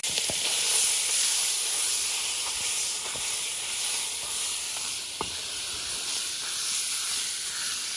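A gas burner flame under a Bayou Classic cast iron jambalaya pot being turned down, giving a steady close hiss with a few faint clicks and no talking.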